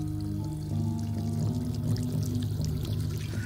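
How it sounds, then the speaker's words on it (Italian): Water pours from a tap in the video game Octave as a steady, moderately faint splashing stream that runs unbroken under a low background hum. "Qua c'è un rubinetto. Dove entra l'acqua?"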